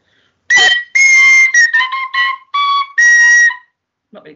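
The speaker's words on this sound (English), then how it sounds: "So I found my penny whistle." A penny whistle plays a short halting tune of bright, breathy notes, some held and some quick, close and loud with brief gaps between phrases.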